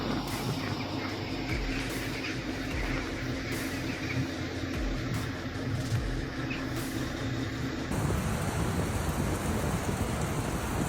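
Steady heavy rain pours on Hormuz Island, with low rolling thunder rumbling beneath a constant dense hiss.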